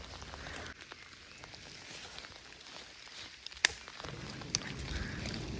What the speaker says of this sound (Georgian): მაგრად გაწვიმდა